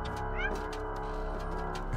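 A cat in the video game Stray gives a clear, close meow that rises and falls over a steady hum of game ambience and music.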